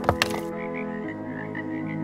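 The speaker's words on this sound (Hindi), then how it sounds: "तभी उनको कुछ मेंढक तालाब में दिखाई दिए।" Frogs croak from a pond in a short burst: two quick sharp calls followed by a sustained, pulsing croak that carries on alone.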